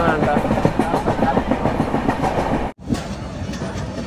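A sleeper class express on the curving Konkan route rumbles along with steady clickety-clack from its wheels, loud and close, with a brief dropout near the end and faint voices in the carriage.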